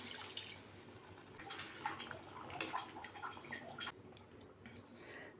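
Water poured into a pot of jackfruit seed curry, a faint trickle with soft splashes and drips running for several seconds before tapering off.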